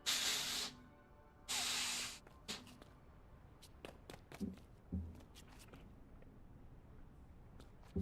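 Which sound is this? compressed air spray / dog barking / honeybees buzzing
compressed air spray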